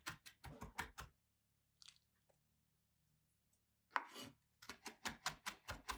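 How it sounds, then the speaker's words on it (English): A knife chops fresh herbs for green seasoning on a cutting board in quick, close, rhythmic bursts of sharp thuds, with a quiet pause in the middle before the rapid chopping resumes. "This is how you would make seasoning on your cutting board. You chop up everything into one."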